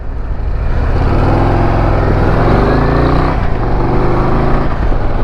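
A 2026 Harley-Davidson CVO Road Glide ST with a 121 engine pulls hard while riding, its deep exhaust rumble rising through the gears, loud and close with steady wind noise.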